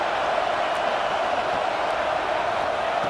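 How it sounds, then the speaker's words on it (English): A big stadium crowd in Happy Valley roars on third down at a Penn State–UCLA football game, a dense, sustained wall of distant voices with no break. "Here comes the noise from this big crowd in Happy Valley on 3rd down"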